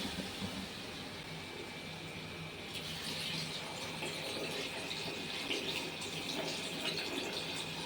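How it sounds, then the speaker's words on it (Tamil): Water pours steadily into a pot of sautéed chicken for biryani, a continuous gushing splash that grows fuller partway through, fairly close and without talk. "பிரியாணி தேவையான தண்ணி ஊற்றிக்கலாம்."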